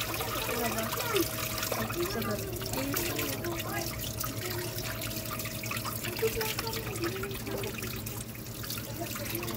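Tap water runs steadily while dishes are washed at a sink, a continuous trickling wash that stays fairly loud throughout, with faint voices in the background.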